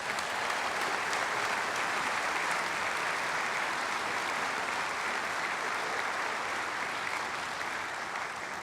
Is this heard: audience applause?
yes